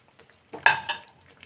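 Brinjal curry with spices in a pan, a brief burst of stirring and scraping with a short sizzle near the middle, quiet before and after.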